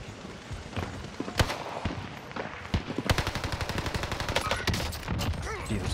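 RAM 7 assault rifle fire in Call of Duty Warzone on Rebirth Island: scattered sharp shots at first, then a sustained rapid automatic burst, fairly quiet and close, with distant gunfire around it.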